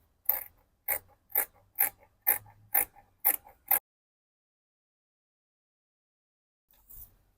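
Scissors cutting fabric for a crop top: eight crisp, evenly spaced snips close by, then several seconds of silence and one final snip.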